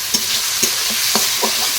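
A spoon scrapes and stirs through mushroom curry frying in a pan with onion, ginger, garlic and star anise, several quick strokes over a steady close sizzle.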